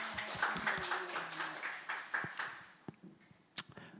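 A church congregation claps in a short, uneven burst during a Sunday worship service, with scattered hand claps and a few sharper taps fading out toward the end, heard fairly faintly in a reverberant hall.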